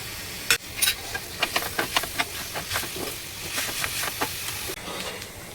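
Fresh coriander and tomato roast in a pan, making a soft steady hiss of steam broken by a quick series of light knocks and scrapes from stirring, heard up close without talking.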